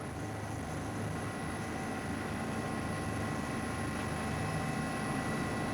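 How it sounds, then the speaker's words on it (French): Continuous, even helicopter drone fills the cabin in flight, a steady broadband rumble with a faint high whine and constant vibration, close and unbroken, with no talking. "Bercé par les vibrations de l'hélicoptère, Hugo s'endort."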